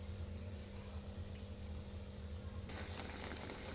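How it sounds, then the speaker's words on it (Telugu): Corn vadas deep-fry in hot oil, giving a dense, steady sizzle and bubbling hiss that carries on unbroken and turns brighter near the end. "ఇలా ఒక్కొక్కటి వేసుకోవాలి. గోల్డెన్ బ్రౌన్ వచ్చే వరకు వేయించుకోవాలి."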